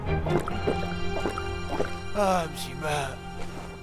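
Water being fetched in the video game Valiant Hearts, a series of drips and liquid pouring and gurgling sounds, with a few short bursts of bubbling filling near the end.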